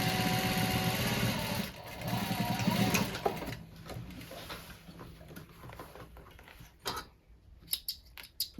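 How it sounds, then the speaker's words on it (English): A sewing machine stitches denim and lining together for a rolltop rucksack in close, loud bursts of fast needle chatter, then stops, followed by fabric handling and light taps. "So I've got the lining on the other side and sewing it with the denim on top"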